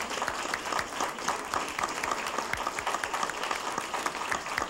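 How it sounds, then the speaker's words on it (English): Steady applause from an audience at a public library, honouring children for their summer reading, a dense, even patter of many clapping hands throughout with no voices on top. "you all deserve a great round of applause for reading 8 books this summer"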